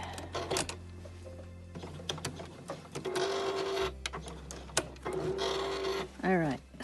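Domestic sewing machine stitching folded denim scraps, its motor whirring in short bursts that stop and start between pauses, with a person talking over and between the runs of stitching.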